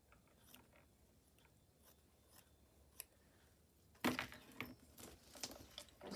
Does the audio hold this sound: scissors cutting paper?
yes